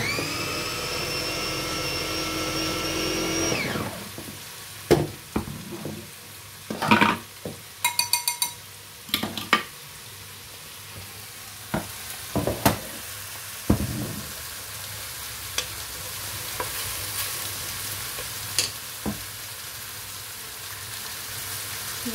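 Onions and tomato simmering in a pot: a steady bubbling sizzle under scattered clinks and scrapes of utensils against the pot, preceded by a few seconds of a high whirring hum.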